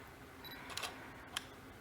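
A DSLR camera shutter fires once, a quick soft mechanical click-clack heard close and faint in a quiet room.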